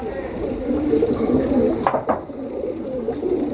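Double-ringed pigeon cooing, soft repeated throaty coos close by, with a short sharper sound midway and faint talk in the background.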